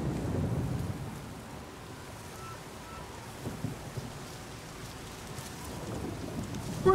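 Steady rain and rolling thunder in the God of War video game, a constant wash of downpour with low rumbles throughout and a sharper crack near the end.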